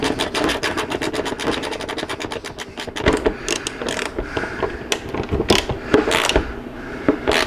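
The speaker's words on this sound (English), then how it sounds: "We're going to tighten that down and secure that bolt to the fender." Ratchet wrench clicking rapidly as a nut is tightened onto a bolt through a stretched rear motorcycle fender, with bursts of close, dense clicks, short pauses and scraping metal contacts.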